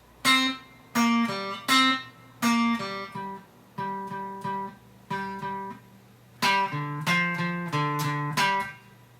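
An electric guitar riff of short, clearly picked notes in a repeating rhythmic pattern, played alone without any voices.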